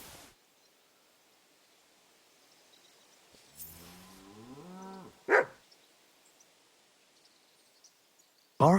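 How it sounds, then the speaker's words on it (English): A dog barks in Kingdom Come Deliverance 2, a short run of a few quick barks from moderate distance amid a quiet outdoor ambience, with brief sharp knocks before and after. "Barking?"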